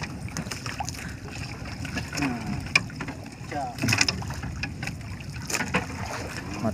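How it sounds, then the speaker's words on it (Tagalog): Strong seaside wind buffets the microphone with a steady rough rumble during beach fishing, with water sloshing and faint voices in the background. "Lakas ng hangin, sigurado to sa video."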